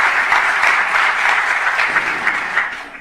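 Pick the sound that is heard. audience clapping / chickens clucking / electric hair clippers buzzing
audience clapping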